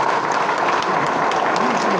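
An audience claps through a political speech by Narayan Rane in Ratnagiri, with steady broadband applause and some crowd murmur layered in, fairly loud throughout.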